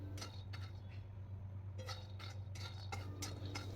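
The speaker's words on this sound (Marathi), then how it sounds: "आता मी शेंगदाणे भाजून घेते कढईमध्ये" Peanuts roast over low heat in a wok while a spatula stirs them, producing faint, irregular scraping and light metallic clinks over a steady low background hum.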